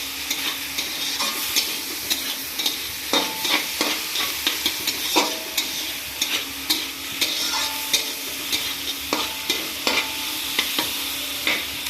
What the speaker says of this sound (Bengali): মানে নাড়াচ্ছে কিন্তু, এই সব নাড়াচ্ছে